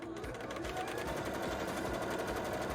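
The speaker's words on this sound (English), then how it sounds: "let's do a zigzag over the edge to prevent it from fraying" A domestic sewing machine runs a continuous zigzag stitch over the raw edge of petticoat fabric, a steady close whirring with a fast rhythmic clatter and no talking.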